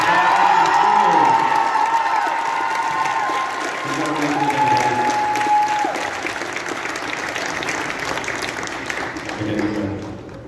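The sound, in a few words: huge round of audience applause and cheering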